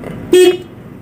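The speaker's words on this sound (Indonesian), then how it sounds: "Kita tekan, maka klakson akan" A single short car horn honk, loud and close, lasting about a quarter second against quiet background.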